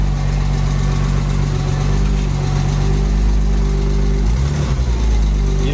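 A Porsche 986 Boxster engine idles steadily and close by after a clutch replacement, a loud continuous low rumble with a slight wobble in pitch near the end and no talk over it.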